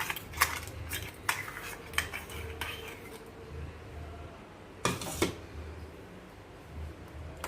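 Mutton being mixed with yogurt in a home kitchen pot, with intermittent clinks and scrapes of a spoon against the vessel and a few sharper metallic knocks, fairly close with quiet room noise between.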